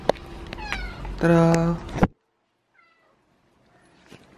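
House cats at home meowing close by, a few drawn-out meows in the first two seconds, then near silence with a faint, distant meow; a voice speaks briefly over them.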